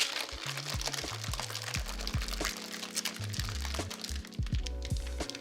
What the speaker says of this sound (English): Shake for about 5 to 10 seconds.